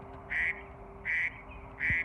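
Ducks quack in three evenly spaced, bright bursts over a steady low hum, set outdoors beside an airport runway while camping; each burst is short and fairly close, with no talking.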